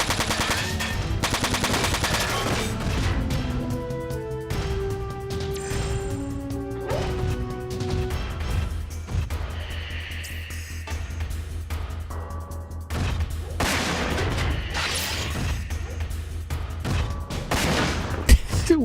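Gunfire from the mech combat video game Front Mission 4, with dense bursts of shots and impacts running continuously under a loud, busy game soundtrack.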